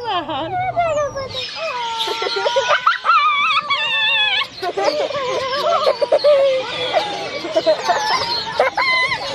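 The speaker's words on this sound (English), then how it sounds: "There are some turkeys over here." Turkeys and other fowl call at a petting farm, with repeated loud gobbling and clucking cries close by and overlapping, alongside other farm animal sounds.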